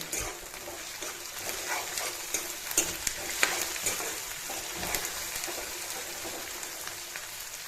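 Onions frying in a pan for an Assamese-style chicken dry fry, a steady hiss and sizzle with scraping stirring sounds rising and falling throughout.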